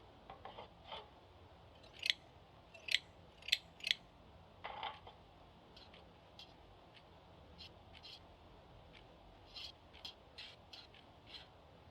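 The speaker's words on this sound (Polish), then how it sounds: "Nożyczkami odcina nadmiar materiału." Scissors snip excess sheet metal fitted onto a clay pipe, a series of sharp, crisp cuts clustered in a quick run then scattered more faintly, close and quiet against low background hiss.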